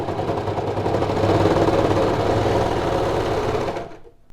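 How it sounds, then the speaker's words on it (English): A Baby Lock Victory serger runs continuously over denim fabric, a fast, even mechanical whir close and loud for about four seconds before stopping abruptly. "So without changing any settings, I'll sew over my stretch fabric."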